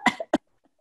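A voice imitates a whooping cough (pertussis) coughing fit: a few sharp, close cough bursts in quick succession, then near silence with faint traces.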